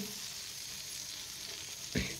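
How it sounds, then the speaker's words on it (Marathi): Butter sizzling on a very hot tava griddle, a steady close hiss of frying throughout with a brief louder spatter near the end, no talk. "इथं मी आता ही बटर तव्यावर घालून घेते."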